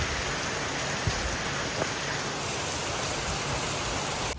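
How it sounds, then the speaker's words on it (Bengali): Heavy rain falls outside during an approaching storm, a dense, steady hiss of drops on surfaces filling the whole stretch at an even loudness, with no voices. "বাইরে অলরেডি সুন্দর বৃষ্টি শুরু হয়ে গেছে একদম ভালো জোরে পড়ছে"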